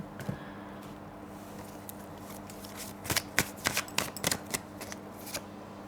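A deck of tarot cards is shuffled close by. Faint rustling gives way to a quick burst of crisp, snapping riffles in the second half, with no speech.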